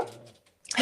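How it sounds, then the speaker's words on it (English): Dogs barking somewhere in the background during a live show, a couple of brief, moderately loud barks with no talk over them. "I got dogs going off in the background."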